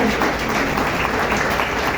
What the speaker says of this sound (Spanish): Vamos a dar un fuerte aplauso al Señor por su palabra